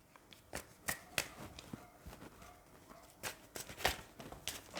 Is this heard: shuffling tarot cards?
yes